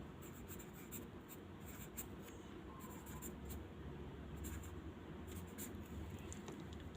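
Someone writes by hand on paper, producing quiet, continuous scratching strokes with short bursts and pauses between them, close and soft, with no talking.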